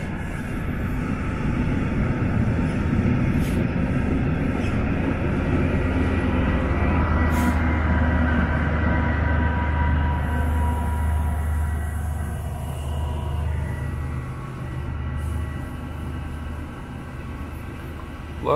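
A train rumbles past close by, a steady loud low roar with clanking that slowly fades toward the end, with no voices over it.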